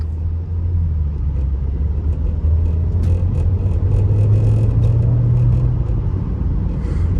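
A 2014 Maserati Ghibli with a 3.0-liter twin-turbo V6 accelerates, giving a steady low engine rumble and rising drone heard from inside the cabin with light road noise.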